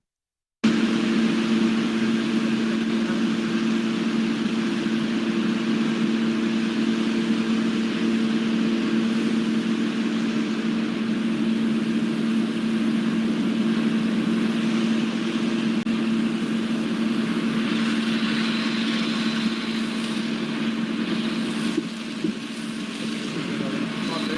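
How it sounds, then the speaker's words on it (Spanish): Motor noise carried through a building's floor and ceiling, a steady low hum with a strong tonal drone that runs unbroken and fairly loud, swelling slightly near the end. "El ruido lo tenemos en tuberías y demás, y en motores, principalmente en motores."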